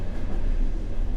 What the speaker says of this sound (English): Very quiet train.